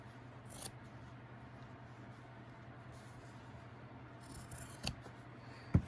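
Scissors snip through a sock just above the heel, giving a few quiet, brief cuts over a low steady background hum.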